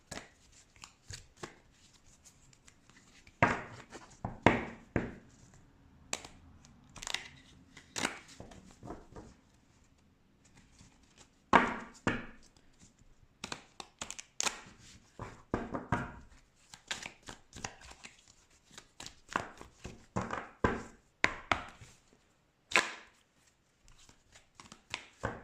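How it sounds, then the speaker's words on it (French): Oracle cards are shuffled by hand again and again, a run of soft, papery riffles and slaps in uneven bursts with brief pauses between, close and fairly quiet. "Je mélange et je remélange les cartes"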